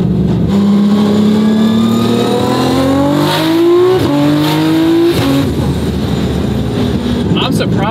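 A Nissan R32 GTR 'JUN II', running a big turbo at high boost, revs loudly while driving, its engine pitch climbing through gears under the chatter of people in the car.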